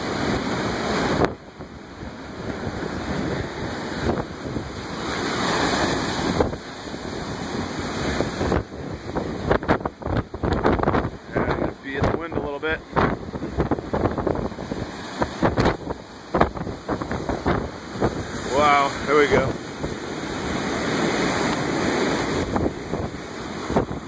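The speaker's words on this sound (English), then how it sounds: "Strong waves coming through right now." Strong ocean waves crash and surge repeatedly during a nor'easter storm, heavy wind buffeting the microphone throughout, loud and rough with bursts of spray.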